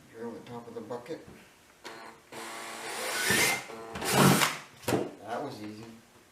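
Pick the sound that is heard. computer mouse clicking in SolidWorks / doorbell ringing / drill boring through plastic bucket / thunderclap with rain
drill boring through plastic bucket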